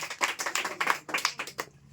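Schoolchildren in a classroom clap briskly for a correct answer, a short burst of sharp, close hand claps in quick uneven rhythm that tapers off near the end.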